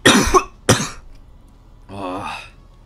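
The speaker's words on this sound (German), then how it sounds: "Ich muss echt krass husten gerade" Two sharp, close coughs come in quick succession, followed after a short pause by a brief voiced throat sound.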